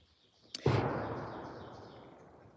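A single sharp blast rings out in open countryside, followed by a long rumbling tail that slowly fades over a couple of seconds, fairly distant and with no talking.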